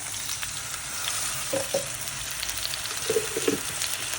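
Onion and garlic frying in a pan for a chili kangkong stir-fry, a steady close sizzle broken by a few soft clinks of the stirring spoon, with no talking.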